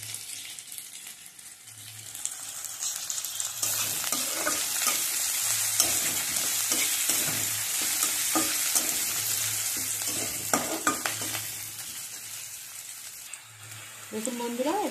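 Barma greens (shak) frying and being stirred in a pan, a steady close sizzle with scraping stir strokes running throughout.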